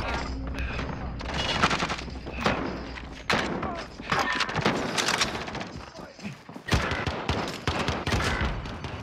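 Rapid video-game gunfire, bursts of automatic shots and heavy thumps stacking up loud and close, with short gaps between volleys and a voice talking over the shooting.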